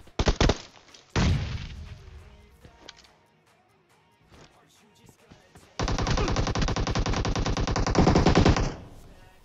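Rapid bursts of Groza automatic rifle fire in PUBG Mobile, a short volley near the start and a long sustained stream later, loud and close with quieter gaps between.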